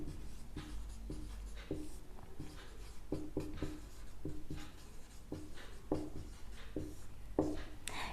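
Chemistry calculations are written on a board, giving scratchy strokes and taps in short irregular bursts over a steady background hiss, with no talking.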